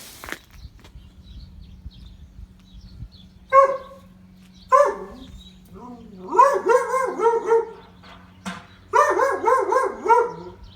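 A dog barks at the mailman, close and loud, in sharp single yelps and then rapid clusters of barks and howl-like yips over a faint steady hum.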